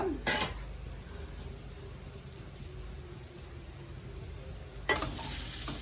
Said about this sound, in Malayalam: ഒരു നാല് കൊച്ചുള്ളി എടുത്തിട്ടുണ്ട് ഇത് നന്നായിട്ട് വറുത്തെടുക്കാം